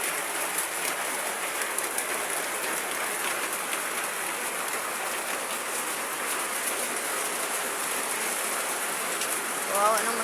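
Heavy rain driven by strong wind pours onto a leaking roof as a constant close wash of noise, with a brief higher chirp near the end.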